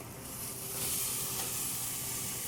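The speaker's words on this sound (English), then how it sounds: "Our steaks have been cooking for a little longer, so now we're going to flip." Steaks sizzling on a grill, a steady loud hiss and crackle of fat close up, continuous with no talk.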